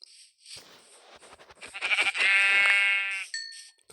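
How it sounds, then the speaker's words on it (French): Several sheep in a video game bleat in quick succession, the calls building into a loud, sustained wavering bleat before cutting off, with a short tonal chime at the end. "Encore des moutons."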